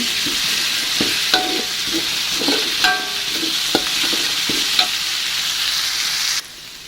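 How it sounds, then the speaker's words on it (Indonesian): Spice paste for oreg tempe sautéing in a pan, a steady close sizzle broken by the scrape and clatter of a spatula stirring, several distinct knocks along the way before the sizzle drops away at the end. "kita tumis sampai bumbunya benar-benar matang ya"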